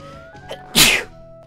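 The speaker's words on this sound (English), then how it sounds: "I gotta sneeze." A single sharp human sneeze bursts out loud and close in a quiet room, preceded by a brief intake of breath, with a faint steady tone lingering in the background.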